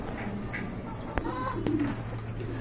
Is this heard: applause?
no